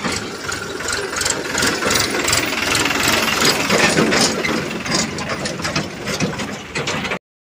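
A combine harvester engine runs steadily in Gujarat, making a dense, continuous mechanical roar with rattling gear and ratchet-like clatter. It stays close and loud throughout, then cuts off abruptly at the end.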